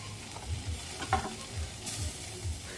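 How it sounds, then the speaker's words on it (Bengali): Pointed gourd (potol) fries in a pan, a quiet sizzle broken by soft, low thumps and scrapes of stirring roughly every half second, close by with no talking. "এখন পটলটা ভেজে নেই।"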